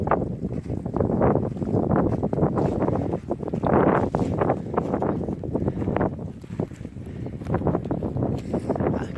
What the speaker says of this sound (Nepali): खुब हावा चलिएको छ है आज